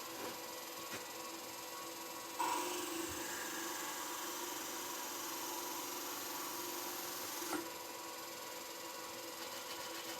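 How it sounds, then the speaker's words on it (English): A wooden piece being sanded along its top edge by a power sander, a steady whirring drone that starts with a sharp onset after a quieter stretch, runs evenly for several seconds, then drops back, fairly quiet and close. "what I want to do is I want to sand this top edge"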